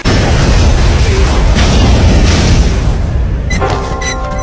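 A bomb detonates aboard a bus in a loud, close blast with a roaring, rumbling burst of debris that gradually fades as music swells in.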